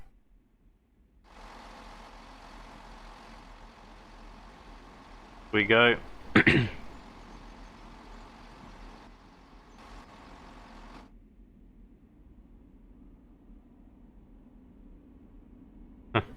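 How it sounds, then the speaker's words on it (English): A GWR Class 166 diesel train in Train Sim World 2020 pulls out of a station, a low steady engine rumble building beneath two brief bursts of hiss and clatter, with someone speaking briefly. "Throttle 1, throttle 2, throttle 3. Let's pull out nicely of the station."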